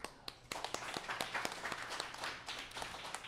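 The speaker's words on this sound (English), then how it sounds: "Let's give a round of applause to our guests." A small summit audience applauds guests at a round-table event: a faint, brief spell of scattered hand claps from a modest crowd, some claps sharper and nearer than others.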